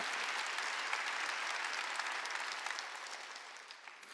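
A church congregation at a Wednesday worship service claps together in a dense, even wash that slowly fades toward the end, with no voices over it.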